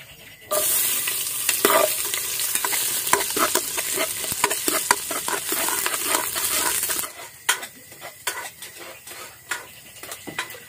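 Garlic and onion sauté in a hot pan with a loud, steady sizzle, broken by repeated scraping and clinks of a utensil stirring against the metal; the hiss drops off sharply near the end, leaving scattered taps.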